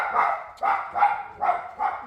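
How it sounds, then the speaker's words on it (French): Dogs bark indoors at someone arriving, five sharp, evenly spaced barks in a row, loud and close with no talk over them. "Désolé, là, les chiens, pense qu'il y a quelqu'un"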